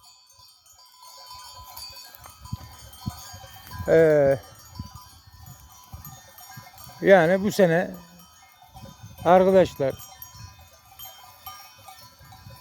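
Sheep on a Turkish flock outing bleat three times, loud and close, over faint cowbell clinks and low rustling, while someone speaks briefly in between.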